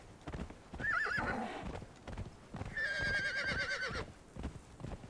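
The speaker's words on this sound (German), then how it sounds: "Mein Pferd freut sich auch schon." A horse in Conan Exiles clip-clops steadily along with rhythmic hoofbeats while giving two loud, drawn-out neighs, close and clear with no talking.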